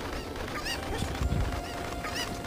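Cucco chickens in The Legend of Zelda: Ocarina of Time let out several short, honking clucks close by over a dense game soundscape, and no one speaks.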